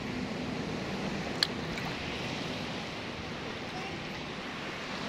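Calm sea waves at a beach in Catmon make a steady, even wash of broadband surf with light wind noise on the microphone, continuous and unbroken for several seconds with one brief sharp click partway through.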